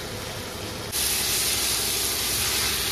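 Potatoes are stirred into a spiced fish curry with cauliflower and peas in a hot pan, giving a loud, steady hiss and sizzle that jumps sharply louder about a second in and then holds continuous.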